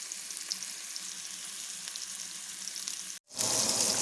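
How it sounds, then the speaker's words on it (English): Homemade breakfast sausage patties sizzling and frying in a skillet, a steady bright crackle that cuts out briefly near the end before returning louder and hissier. "Listen to that sizzle."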